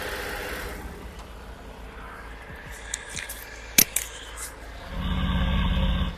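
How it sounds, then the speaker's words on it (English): A 2025 Triumph Tiger 900 GT motorcycle engine cranks and fires up, a few sharp mechanical clicks before the exhaust catches and settles into a loud, steady low rumble close by. "I'll fire up the engine so that you also can hear the exhaust note."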